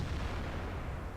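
A tank cannon fires at an enemy turret in a tank combat video game, a single heavy low boom with a rumbling tail that fills the whole short moment.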